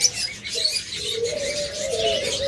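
A pair of green opaline pet birds call in short, chirpy bursts over a faint background hum, with a rising tonal note near the end, close and moderately loud.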